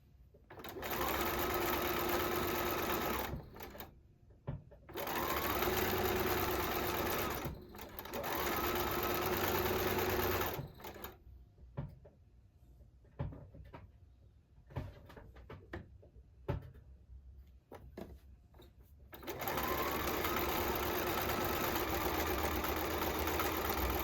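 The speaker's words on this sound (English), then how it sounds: "I'm going to hold on to my threads, and I'm just going to stitch." A sewing machine stitches quilt block fabric in long, steady runs with a loud, even mechanical whir, stopping and starting three times. Between runs come quieter handling clicks and rustles before a final stretch of stitching.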